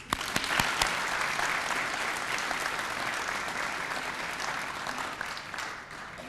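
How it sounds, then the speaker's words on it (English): Audience at a high school Salute to Service event honoring police and school resource officers bursts into sustained applause, a dense steady wash of clapping with a few sharper claps near the start, filling the room for several seconds. "So one more round of applause."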